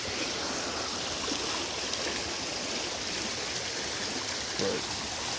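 A flooded stream rushes past in a constant broadband roar of fast water, steady and fairly close, with no voices.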